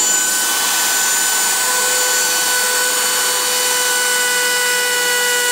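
A Dremel rotary tool cuts a hole for an off-road vehicle intake, sending out a steady, loud, high-pitched whine that holds evenly the whole time with no talking.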